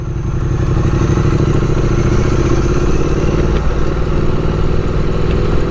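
A motorcycle rides over cobblestone streets in Philadelphia, its engine droning steadily and loud and close, with a continuous rattling rumble from the bumpy surface throughout.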